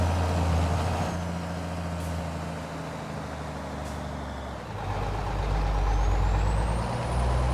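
Heavy grain truck loaded with 580 bushels of beans in Farming Simulator 22, engine droning low and steady with a hiss of air brake and engine-brake rumble swelling toward the end, no talk.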